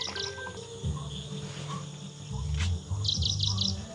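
Sparrows and weaver birds chirp in village fields, with bright repeated chirp bursts at the start and a quick run of four chirps near the end over steady insect and cricket hum and low rumble.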